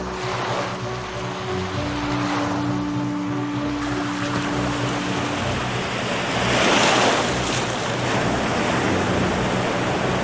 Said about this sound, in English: you can see massive waves up to 7 meters high crashing against the shore